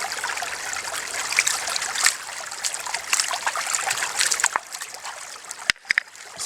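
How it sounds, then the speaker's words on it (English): Stream water trickling and splashing as clay is washed off a rock by hand while sampling for gold, a close, continuous gurgle with a few sharper splashes near the end. "So I'm just washing it off"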